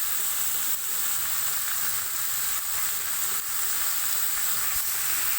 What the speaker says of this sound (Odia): ଏବେ ଛତୁକୁ ଆମେ ଭାଜିଦେବା।